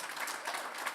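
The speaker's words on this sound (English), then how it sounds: "We also want to give a ripple of applause, a large ripple of applause, to the volunteer doctors and nurses" Faint, distant applause from a fundraiser crowd for volunteer clinic doctors and nurses, a soft, even patter of clapping heard briefly and at low level.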